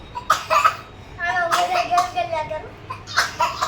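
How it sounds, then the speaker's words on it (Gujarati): Several short, sharp coughs come in bursts, mixed with children's voices talking nearby, in a home where the whole family has a cough. "બધાને ઉધરસ થઈ ગઈ આખા ઘરમાં"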